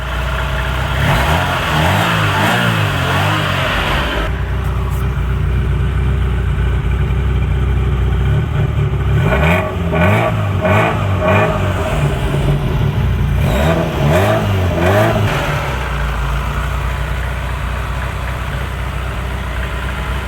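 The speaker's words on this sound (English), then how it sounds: "it's now come off the cold start valve and is idling nice and steady" A Ferrari engine, just repaired for erratic running, settles off its cold start valve into a steady idle, with loud low engine rumble and a few brief blips of revving between smoother stretches.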